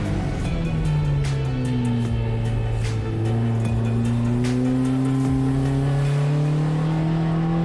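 A VW Jetta GLI super touring race car accelerates hard onto the main straight at Thunder Hill Raceway. The engine drone stays loud and steady, rising in pitch through the gears.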